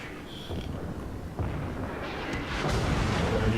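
Naval guns fire in World of Warships as a Bismarck lands shells on a Chapayev cruiser, producing a few fairly faint booms and rumbling blasts over a low background of battle noise.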